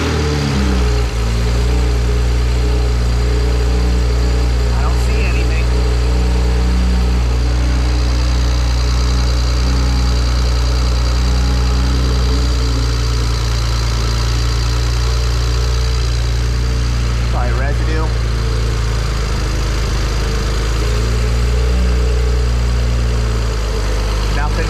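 A BMW 135i engine idles loudly and close, a steady low droning rumble that runs throughout, with a brief clicking or ticking rising over it at moments.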